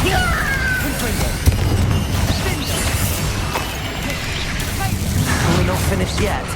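Bombarda and Confringo spell blasts in the Hogwarts Legacy video game, loud booming bursts and crashes that roll on continuously under game voices amid clattering debris.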